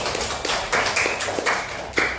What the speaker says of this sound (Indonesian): Coba beri tepuk tangan dulu buat Andini.